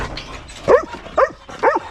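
Dogs give three sharp barks at a steady pace over a quiet background, loud and near.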